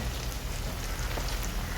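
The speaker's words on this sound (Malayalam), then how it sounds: "നല്ല വെളിച്ചെണ്ണയിലാണ് പൊരിക്കുന്നത് കേട്ടോ." Chicken popcorn deep-fries in coconut oil, making a dense, even, crackling sizzle that stays loud and close for the whole short stretch.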